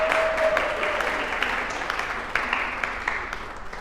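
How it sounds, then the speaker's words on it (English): An audience claps in a short, steady burst of applause that fades slightly, heard from within the room, with no talking over it. "Give her applause."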